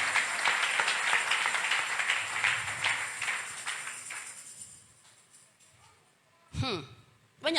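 A church congregation clapping together, a rolling burst of applause that fades out, followed by a few stray sounds near the end.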